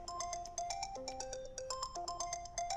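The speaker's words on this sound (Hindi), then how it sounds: "फोन आ रहा है।" A phone ringtone plays a bright, repeating electronic melody of quick, evenly spaced notes. It sounds close and clear, with no talking over it.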